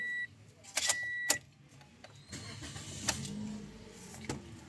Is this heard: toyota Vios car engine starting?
yes